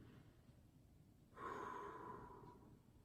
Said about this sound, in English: Breathing through these.